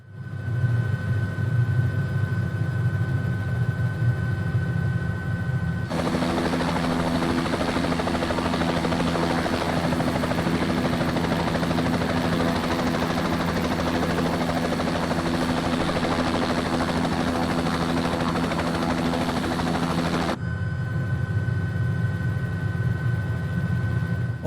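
Bell 206 B3 helicopter engine idling after startup in Microsoft Flight Simulator, a loud steady turbine whine and rotor drone, with an abrupt shift to a brighter cockpit tone in the middle, no talking.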